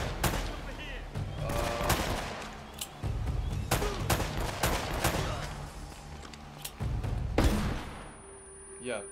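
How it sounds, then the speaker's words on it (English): Gunshots in the video game Uncharted crack out in scattered bursts and single reports over a busy game soundtrack, with a loud volley near the end. "I'm gonna see if I can shoot."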